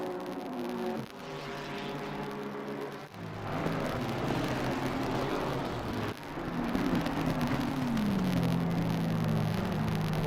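GT Americas race cars on the Imola circuit in a sim racing game roar past one after another, engine notes rising and falling as each passes, with a continuous layered mechanical drone and no talk.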